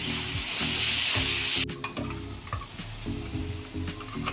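Onions sizzle in hot oil in a pan for a paneer ghugni, with steady frying hiss and repeated scraping strokes of a spoon stirring them, close and continuous.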